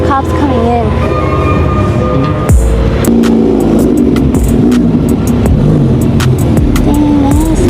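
A tuned Honda Civic growls loudly on a city street at a night car meet, its engine rising and falling in revs while people talk nearby.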